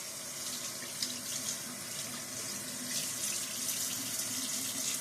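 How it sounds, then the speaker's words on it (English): Tap water runs steadily into a bathroom sink as the face is wetted for shaving, a continuous close splashing flow with no talk. "I get my face nice and wet."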